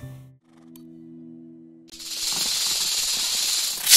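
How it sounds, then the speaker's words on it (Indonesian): A snake hisses fiercely inside an old abandoned car in the game Best Month Ever!, a loud sustained hiss that comes in after a quiet tonal stretch and builds toward the end. "Secara mengejutkan, di dalam mobil itu ada seekor ular yang sangat ganas."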